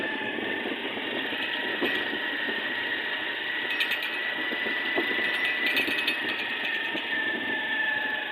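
A motorcycle engine drones steadily while riding through loose desert sand, a continuous mid-pitched hum with a high whine, moderately close and unbroken.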